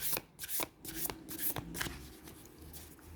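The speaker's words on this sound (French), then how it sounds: "Dieu va vous révéler aujourd'hui votre carte de l'oracle de la voix des âmes d'Isabelle Serre." Oracle cards being shuffled by hand, a run of crisp riffling snaps and slides at close range with short pauses between, no talking.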